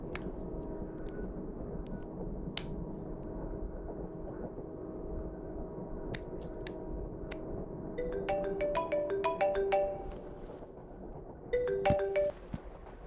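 A mobile phone ringtone from an incoming call plays a bright melodic jingle in two bursts, the second after a short pause, alone over a quiet indoor room with faint background noise and no talking.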